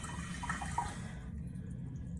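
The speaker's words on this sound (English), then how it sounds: "So it can get a good flush in there" A toilet flushing after a new FluidMaster 400ARHRK fill valve kit is installed, a close rushing swirl of water that drains away and fades to a quiet trickle within about a second.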